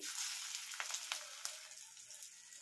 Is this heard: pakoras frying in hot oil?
yes